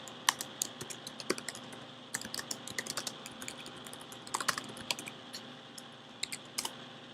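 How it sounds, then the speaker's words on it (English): Computer keyboard typing while entering text into a web chat page: quiet, irregular clusters of clicky keystrokes with brief pauses, close and alone without voices. "We can go ahead and type in"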